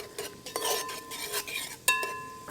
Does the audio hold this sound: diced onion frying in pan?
yes